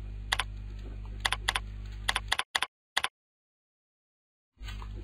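Short clusters of crisp key clicks from a computer keyboard sound over a low steady hum, then a couple of final taps, a moment of silence, and the hum returns.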